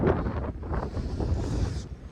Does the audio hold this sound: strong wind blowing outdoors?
yes